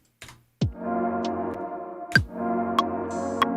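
Sharp, evenly spaced classic metronome clicks over a sustained tonal backdrop, ticking steadily at a moderate tempo.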